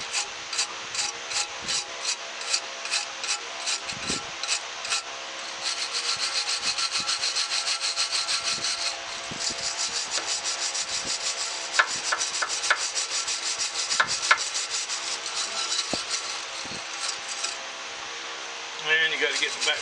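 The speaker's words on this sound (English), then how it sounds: "Good old wire brush here." A wire brush scrubbing caked grass off a bolt, a steady close rasping rub in quick repeated strokes with brief pauses and a few sharp knocks.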